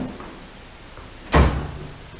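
A Harbor Freight tool chest drawer is tugged open, giving one short, fairly loud scraping thud partway through after quiet room tone.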